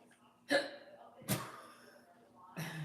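Three separate hiccups from a person, spaced roughly a second apart, each a short abrupt catch of breath, close but fairly soft against a quiet room.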